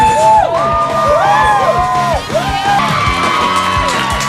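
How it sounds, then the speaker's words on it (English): A studio audience at a music TV show cheers, whoops and yells loudly and continuously, with overlapping high shouts rising and falling throughout. "Very loud crowd today."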